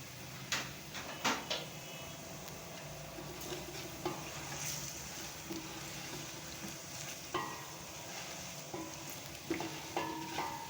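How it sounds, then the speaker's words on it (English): Fried sweet potatoes, cooked alongside onions, stirred in a hot pan: a steady sizzle runs under scattered spoon scrapes and knocks against the pan, close up, with no talking. "Then we mix it together."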